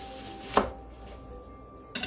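A knife cuts an onion in half on a cutting board, giving two sharp chopping strikes about a second and a half apart, the second followed by a short cluster of knocks, with quiet pauses between.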